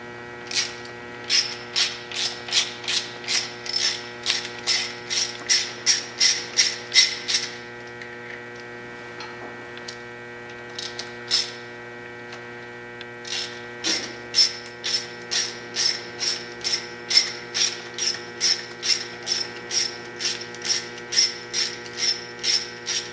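A ratchet clicks in quick repeated bursts, pausing between strokes, as bolts come off a Harley secondary cam chain adjuster during a Fuel Moto 107 big bore cam chest teardown, all over a constant low electrical hum.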